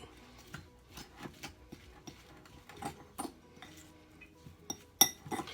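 A utensil clinks and scrapes in a pan while a jack mackerel breakfast scramble is mixed, with a quiet, irregular run of soft taps and a sharper knock near the end.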